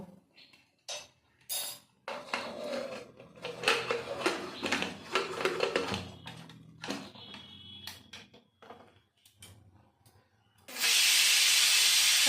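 Kitchen clatter and scraping give way to a loud, sustained steam hiss near the end as a pressure cooker of rajma (kidney beans) vents.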